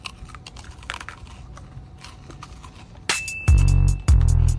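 Peach ring gummy candy is bitten and chewed close to the mic, with a quiet stretch of small clicks giving way to two loud, sharp crunching bursts near the end.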